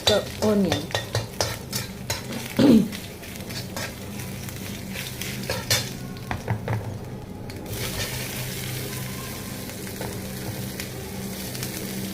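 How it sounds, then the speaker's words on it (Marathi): Onion added to a pan of browned ginger garlic paste, stirred with a utensil: scraping clatter and spoon knocks over a low, steady sizzle that continues after the stirring stops. "तर जिंजर गार्लिकची पेस्ट छान ब्राऊन झाल्यानंतर आपल्याला त्यात टाकायचं आहे ओनियन।"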